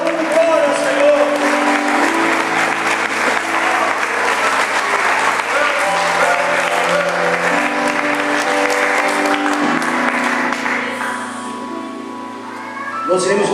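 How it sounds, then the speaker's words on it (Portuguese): A church congregation applauding during a worship service, with continuous clapping mixed with sustained keyboard chords and voices throughout, easing slightly near the end. "Aplauda, dando glória ao Senhor."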